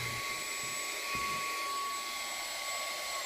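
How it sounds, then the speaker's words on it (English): A 2-in-1 air blower and vacuum with its attachment fitted runs steadily while sucking up small pebbles, making a constant high-pitched motor whine and rushing air, close and continuous, with no speech. "with the attachment, it definitely sucks items a lot better."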